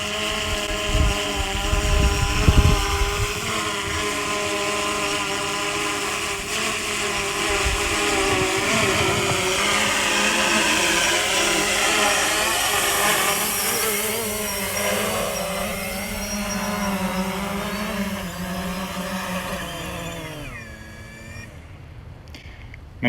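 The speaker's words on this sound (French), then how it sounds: "Il entame sa descente sur une position GPS, pas détectée pour l'instant." A FIMI X8 SE quadcopter drone descends and lands on its pad, its rotors giving a steady, loud whirring drone with wind buffeting throughout, the pitch shifting as it settles before cutting off near the end.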